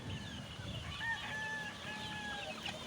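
Rooster crowing with some clucking, a faint drawn-out crow in the middle amid soft farmyard background noise.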